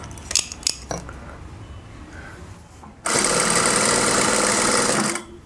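After a few light clinks of handling, a sewing machine runs for about two seconds in a steady, fast whirring stitch, joining the shoulder seam of a kameez.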